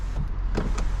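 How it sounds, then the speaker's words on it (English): Kia Stinger moonroof motor opening inside the car, a short whirring electric hum with brief mechanical clicks, close and fairly loud, no speech. "we'll just open the moonroof up for a minute"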